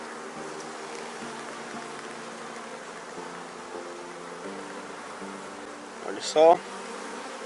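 A dense, steady hum of honeybees fills an apiary during a hive inspection as frames are pulled out, continuous and close throughout, with a brief spoken remark near the end.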